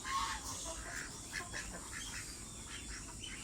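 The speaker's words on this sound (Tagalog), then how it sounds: "Peking duck." A Peking duck quacks among farm poultry, a few short nasal calls scattered over a steady background hiss at moderate distance.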